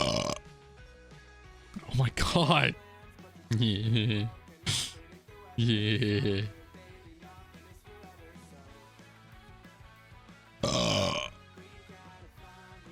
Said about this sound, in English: I really need a burp whenever I do this.